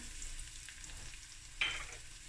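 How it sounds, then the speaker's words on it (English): Garlic cooks in a pan over very low heat, giving a soft, faint, even sizzle with one brief brighter clink partway through. "now we're going to add the garlic. My heat is on very low."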